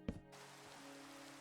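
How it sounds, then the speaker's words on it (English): Steady, faint rain falls in Minecraft, in a hardcore survival world, a soft continuous hiss following a brief louder blip at the start, with no talk over it. "This is the first time it's rained in this world."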